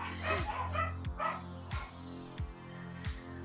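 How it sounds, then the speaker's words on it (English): Dogs bark repeatedly indoors at a regular pace, about five sharp woofs over a low steady hum. "Dogs are being loud. Here they go."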